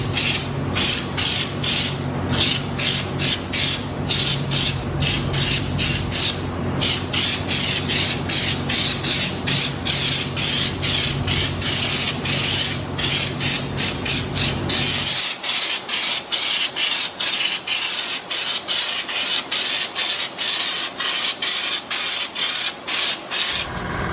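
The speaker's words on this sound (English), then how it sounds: "hook it up to the supplied gun, and spray." A paint spray gun coats the body of a Civic EK hatch in loud, hissing bursts with rapid on-off pulses; a low mechanical hum runs under the spraying for the first half, then drops away.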